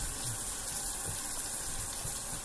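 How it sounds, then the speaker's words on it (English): Water from a sink tap runs steadily onto a face, a constant close hiss and splash with soft lower splatters as hands catch it. "I'm putting some water on my face first."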